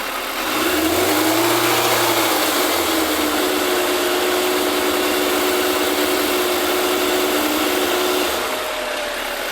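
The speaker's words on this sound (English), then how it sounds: "Let's just rev it a second." A Yamaha FZR1000 EXUP motorcycle engine, under carburettor balancing, revs up briefly from idle, holds a raised drone for several seconds, then settles back down, loud and close.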